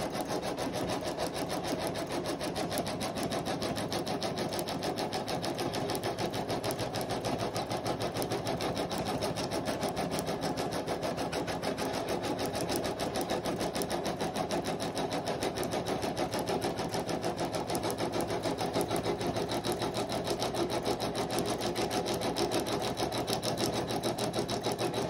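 A sewing machine stitches the outline of an appliqué onto a hooded towel, running in a fast, continuous, even whir close by with no talk.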